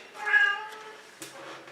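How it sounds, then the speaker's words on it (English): A cat meows faintly nearby, two short meows separated by a pause, heard alone in a quiet room while a Prusa i3 MK3 3D printer is being assembled. "and I hear some meowing."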